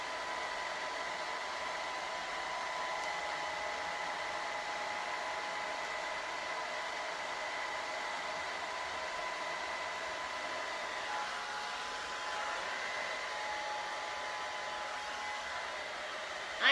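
A hair dryer blows on curly hair in a steady whirring hiss that runs unbroken at moderate volume, with no talking.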